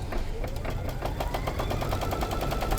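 An embroidery machine stitches a placement line with water-soluble thread in a 9.5 by 9.5 inch hoop, a fast, even mechanical chatter of needle strokes over a steady motor hum, close and continuous.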